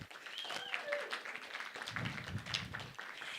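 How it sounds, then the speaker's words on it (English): A church congregation applauds its greeters team, a dense wash of clapping from a crowd indoors that runs steadily throughout, with voices mixed in. "Round of applause for our greeters team."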